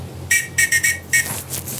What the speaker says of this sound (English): For those of you that are musically inclined, we've got a whistle.